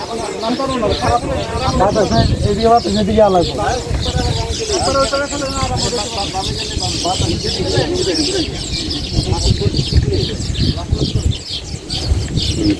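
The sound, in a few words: weaver birds chirping near nest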